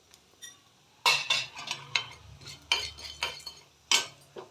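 A spoonful of cumin seeds goes into a pan for hotel-style sambar, heard as a series of close, sharp metallic clinks and scrapes of a spoon against the pan, with a faint sizzle underneath.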